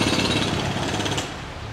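A jackhammer pounds continuously at a construction site, loud and close, a dense rapid hammering that holds steady throughout with no voices.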